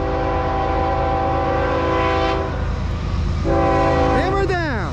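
A loud CSX freight train led by an ES44DC locomotive rumbles past with a sustained multi-tone horn blast, then a second horn blast that bends in pitch as it passes.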